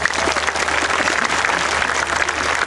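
A congregation applauds for God during a Christian revival service in a sports hall in Purwokerto, Indonesia: dense, sustained clapping from a large crowd, loud and steady throughout.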